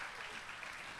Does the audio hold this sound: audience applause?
yes